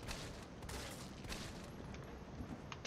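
Rapid gunfire from the Resident Evil 3 video game plays as a dense, continuous volley of shots with sharp repeated cracks over a constant noisy backdrop, quiet overall.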